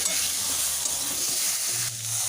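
Chili powder and spices stirred together in a hot pan for a Bengali bata fish curry with potato, papaya and raw banana, a steady close sizzle with soft scraping strokes throughout, no voices.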